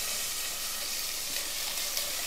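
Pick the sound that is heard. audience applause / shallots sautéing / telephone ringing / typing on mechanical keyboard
shallots sautéing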